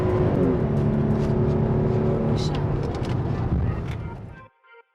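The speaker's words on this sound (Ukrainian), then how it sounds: "якщо ми натиснемо педаль газу, то автомобіль гарно тягне" A Jeep Grand Cherokee IV SUV engine revs and pulls hard under acceleration, a loud steady roar with a rising whine, cutting off abruptly at the end.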